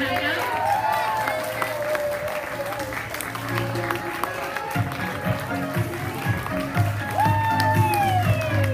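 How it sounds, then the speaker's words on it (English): An audience at a school closing event applauds as grade four students return to the stage, giving sustained clapping from a crowd under steady talk and movement. "Let's give them a round of applause as they come back up."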